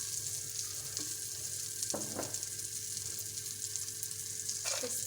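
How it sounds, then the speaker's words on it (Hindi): Chopped almonds and mixed dry fruits sizzling in hot fat in a pan, a constant bright frying hiss with a few scraping stirs of a spoon, close and steady with no talking. "और हम अपने इसमें सारे मेवे फ्राई कर लेंगे।"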